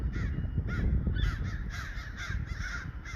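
Crows caw repeatedly outdoors at about 4:30 near solar panels, harsh calls coming in a loose irregular series over a constant low background rumble, moderately distant, with no speech.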